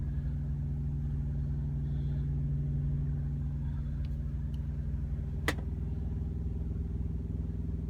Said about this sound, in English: there's a lot of trucks around here